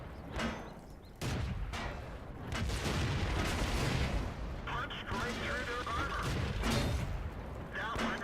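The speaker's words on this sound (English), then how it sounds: "somebody's shooting at me and I don't want to take too many chances" Tank cannon fire and explosions in the World of Tanks video game, several heavy booms and gunfire bursts scattered through a dense battle soundscape with someone talking over it.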